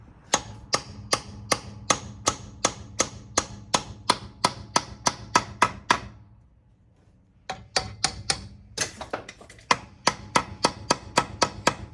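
Steady, evenly spaced hammer blows ring out sharply as a metal bracket is hammered into place, close by, pausing briefly before the rapid striking resumes.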